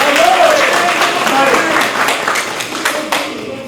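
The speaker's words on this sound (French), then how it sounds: "Applaudissez-le." An audience at a Mauritanian diaspora political meeting in Europe claps in a dense, continuous wash of applause, with voices talking underneath and a few sharper individual claps standing out toward the end.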